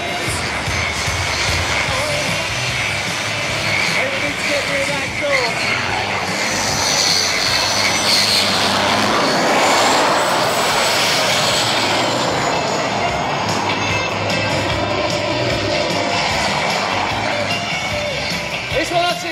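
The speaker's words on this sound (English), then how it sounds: "Oh, I think the afterburner's working now, don't you?" A jet-engine-powered go kart with a gas turbine and afterburner runs at Santa Pod Raceway, giving a loud, sustained turbine roar and whine that swells and holds steady close by.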